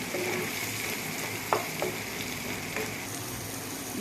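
Curry leaves crackle and sizzle in hot oil in a pan for a bitter gourd and onion curry, a steady close frying hiss with a few sharp pops.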